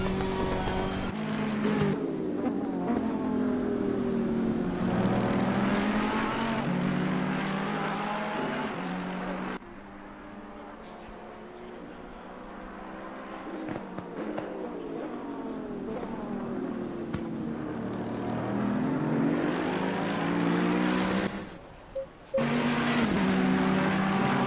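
GT race cars, a Ferrari chasing a Mercedes AMG at Imola in Assetto Corsa Competizione, roar loud and close. Their engine notes climb and drop through repeated gear changes, with one brief dip near the end and no voices.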